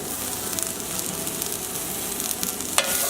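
A spoon stirring chicken with salt, pepper and pineapple in a hot frying pan, steady loud sizzling with scraping strokes throughout, one sharp clack near the end, no voices.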